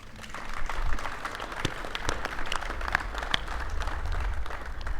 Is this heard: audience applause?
yes